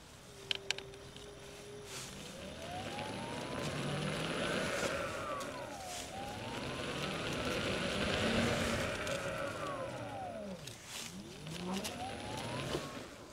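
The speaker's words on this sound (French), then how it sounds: "c'est le bruit du moteur à, faible allure, à faible régime" A Veteran Sherman S electric unicycle's motor runs at low speed, giving a soft whine that glides up and down in pitch as the wheel speeds up and slows, with faint background noise and a few small clicks.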